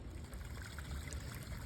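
A small backyard waterfall in a Charlotte forest, trickling in a soft, steady, continuous wash of running water, faint and heard from a short distance.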